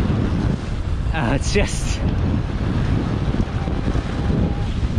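Heavy wind rushing over the microphone while riding a Bulls Desert Falcon Evo electric bike fast, a loud constant low roar with brief speech cutting in.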